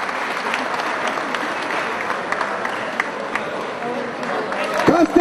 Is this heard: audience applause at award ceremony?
yes